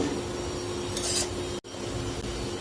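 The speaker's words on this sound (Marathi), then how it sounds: "रवा आपल्याला लो टू मिडियम हीटवर अगदी हलकासा असा भाजून घ्यायचा आहे" Semolina (rava) dry-roasts in a pan over low to medium heat, giving a steady close scraping and rustling of grains as it is stirred, with one brief dropout partway through.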